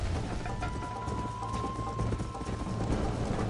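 Horse hooves clip-clop steadily at a gallop in the Red Dead Redemption video game, a continuous close rhythm over a low engine-like hum with faint background tones.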